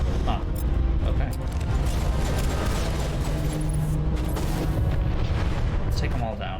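Mass Effect battle at the Citadel with large turrets being destroyed: deep, rumbling explosions and booms roll on almost without pause, loud and dense, with a person talking over them.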